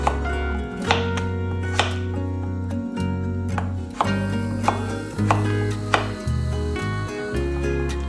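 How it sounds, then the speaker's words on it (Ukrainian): Steady knife chops on a board as potatoes are cut into cubes, a series of sharp irregular cuts over continuous background music. "Тепер нарізаємо картопельку на кубики."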